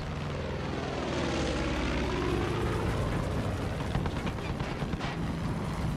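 A propeller airplane engine in Far Cry 5 drones loudly and steadily, close by, with a faint busy background of other game sounds.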